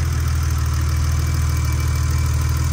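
A 1986 BMW 635 CSi E24 with automatic transmission idles steadily, its engine giving a close, even, unbroken low rumble throughout with no voices.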